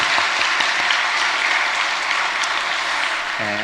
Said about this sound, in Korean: 유치부 교사들을 위해서 박수